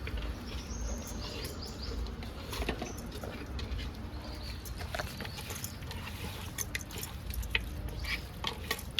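Mutton curry is stirred in hot oil in a pot, a quiet, steady sizzle with intermittent scraping and clinking of the spoon, close and continuous without talk.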